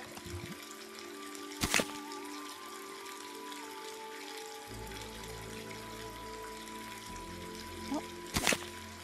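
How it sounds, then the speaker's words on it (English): Water pours into a cup in the point-and-click puzzle game Twilight Phenomena: Lodgers of House 13, a faint, short trickle over quiet background tones, with a couple of soft clicks. "Get a cup of water."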